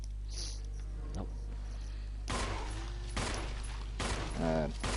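Gunfire in a retro Resident Evil video game comes as several sharp, booming shots spaced about a second apart, loud and close over a low steady hum, with a person speaking briefly between them.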